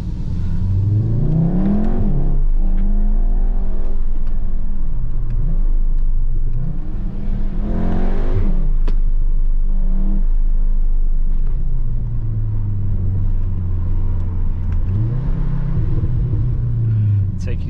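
Volkswagen Golf R 7.5 in sport mode driving through a tunnel at night, engine rumbling and revving up and down with echoing whir, loud and continuous, with someone talking over it.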